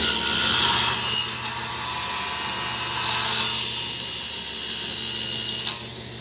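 A table saw set to a 45-degree bevel rips steadily through wood to cut miters for a box, with a loud, continuous high whine that holds for several seconds before the blade drops off.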